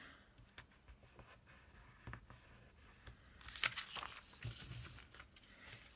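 A pen scratches across the page of a travelers notebook planner in short, quiet strokes and pauses, close and soft, with light paper rustle in between and no talking.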